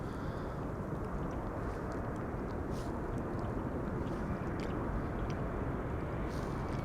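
An Embraer 175 jet arrives at Amsterdam Schiphol Airport on a windy day, a broad steady roar heard outdoors, mixed with wind buffeting that stays loud and constant throughout.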